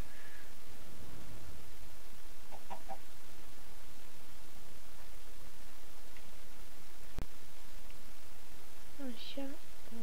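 Chickens in the video game Minecraft cluck in short bursts, one near the start of the stretch and another near the end, over a faint, steady game ambience.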